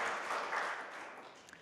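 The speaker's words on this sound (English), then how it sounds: "You can clap for that." A church congregation breaks into applause during a Sunday sermon service, a dense wash of clapping heard at moderate distance that gradually thins out over a second and a half.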